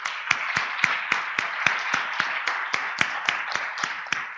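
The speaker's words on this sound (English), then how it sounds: "I would like to give a round of applause to Jeff and his staff for putting on a fantastic conference" Conference audience applause at the closing session, a modest room of clapping with one strong, evenly paced clap standing out in a steady beat over a softer wash of hands.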